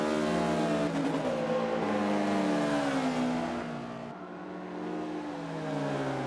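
A Honda Civic race car in Forza Motorsport 5 holds a steady, high-revving engine drone through the long Carousel corner, with pitch rising and falling as it shifts and carries speed, loud and continuous throughout.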